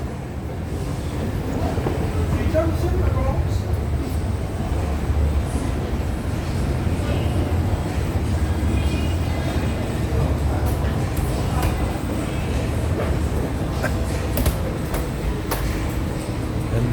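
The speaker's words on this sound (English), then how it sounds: "This is the MRT Bukit Bintang Pavilion." Steady rumble of a metro train at the MRT Bukit Bintang Pavilion station in Kuala Lumpur, with continuous rolling wheel and rail noise and a busy underground hum lasting throughout.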